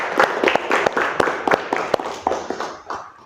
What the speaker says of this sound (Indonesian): beri aplaus untuk kalian semua